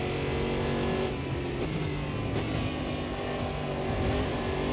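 Race cars roar in a sim racing video game, a dense, continuous blend of engine revs and passing cars at steady loudness, with no talking over them.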